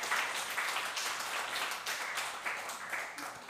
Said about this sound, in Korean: 뒤로 돌아 우리 함께 격려와 축하의 박수 하겠습니다.